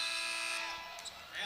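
Women's college basketball game between Gonzaga and San Francisco, an arena buzzer sounding a steady loud tone to end the quarter, cutting off after about half a second amid crowd noise and a commentator.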